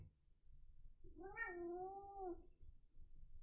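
A house cat lets out a single drawn-out, wavering meow, fairly close but soft, amid quiet room noise.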